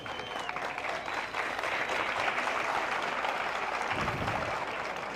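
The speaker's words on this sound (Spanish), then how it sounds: "el aplauso es para Cristo, no para mí" An audience claps in steady, dense applause that fills a hall, holding at an even level for several seconds with faint crowd murmur underneath.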